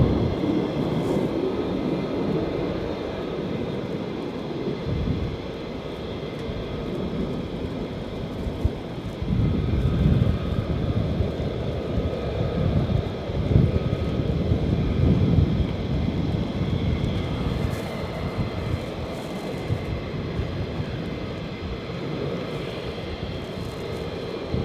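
A military jet taking off at RAF Lakenheath gives a long, loud, rumbling roar that swells and persists, with wind buffeting the microphone outdoors.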